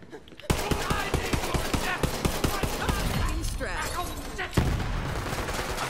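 Gunfire from the video game Borderlands 3: a rapid train of close, loud automatic shots for a few seconds, then heavier blasts and impacts, with a player's voice talking over the action.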